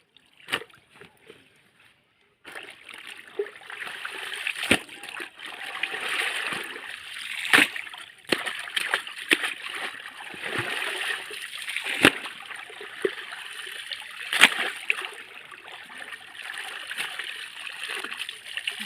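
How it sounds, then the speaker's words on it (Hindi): Water is poured and splashed over clothes being washed in a village setting, a long run of sloshing and dripping broken by sharp wet slaps, with a faint voice now and then. "पानी डालना है।"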